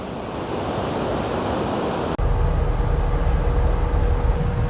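Ocean surf roars below a seaside cliff roughly seventy metres high on the Chilean coast, a loud continuous wash of waves mixed with heavy wind buffeting the microphone, with an abrupt shift midway to a deeper rumble.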